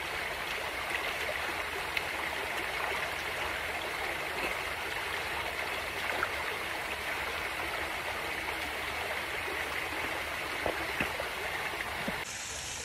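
A hillside stream on the Braemar Hill trail flows steadily, a constant rushing and gurgling close by, with no talking and a slight change near the end.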